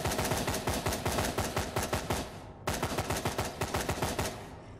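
Rapid bursts of automatic gunfire from a shooter in the dark horror game Fear the Night, nearly a full magazine fired in two long loud volleys with a short pause between them.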